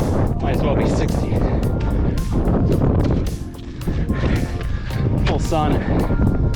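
Wind buffets a microphone on a hiking trail descending Mt Jurupa in Fontana, California, a steady loud broadband roar that briefly eases midway, with faint voices underneath.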